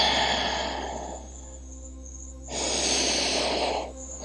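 Two long, airy breaths during a gentle yoga flow, a slow inhale-like rush that fades, a quiet pause, then another full hissing breath close to the ear.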